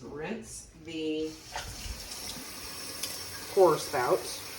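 Hot tap water runs briefly to rinse a jar's pour spout caked with cheese sauce, a short splashing stream in a kitchen, with faint clatter and a voice speaking quietly nearby.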